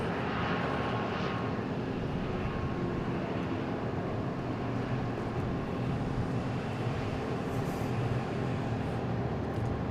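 An aircraft departing Dallas Love Field produces a loud, steady jet engine roar that holds for about ten seconds, broad and rumbling with a faint rising whine near the end.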